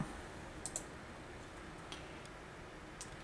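Faint computer mouse clicks, a couple of quick snaps early on and single clicks later, over a steady low room hum with no talking.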